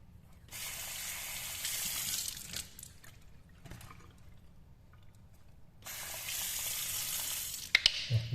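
Face being washed with black acne face wash, with two long bursts of running, splashing water separated by a quieter pause and a few small knocks near the end, close and fairly soft.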